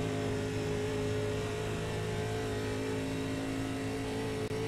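A 1987 NASCAR Cup car engine held at full throttle in iRacing on North Wilkesboro: a loud, steady, high-revving V8 drone that stays constant throughout with no lift, close and continuous.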